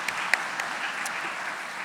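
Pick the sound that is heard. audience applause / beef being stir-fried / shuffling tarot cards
audience applause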